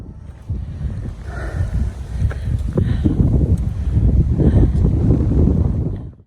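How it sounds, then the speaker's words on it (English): Strong wind roars and buffets steadily across the whole clip at Poia Lake in the mountains, loud and close, with gusts rising toward the end. "It's beautiful, but it's super windy."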